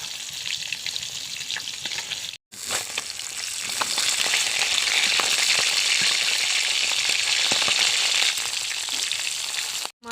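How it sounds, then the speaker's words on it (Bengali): Pieces of silver carp fish fry in hot mustard oil in a wok, a loud, continuous crackling sizzle that swells after a brief pause and keeps going without any voices. "মাছ ভাজা হয়ে গেছে, তুলে নেব"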